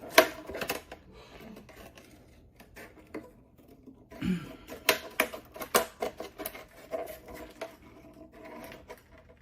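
Scissors snip through stiff card in a series of quick, crisp cuts, close up, with faint rustling of paper between the snips.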